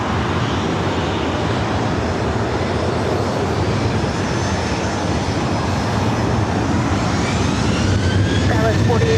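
A jet airliner takes off from runway 24 right at LAX with a loud, steady engine roar that fills the whole stretch. Voices murmur beneath the roar.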